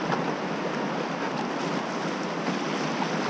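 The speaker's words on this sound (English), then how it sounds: "This is the last rapid on the trip and also the longest." Rushing water of a long river rapid, a broad, steady roar of churning flow heard close and loud without pause, mixed with some wind noise and no speech.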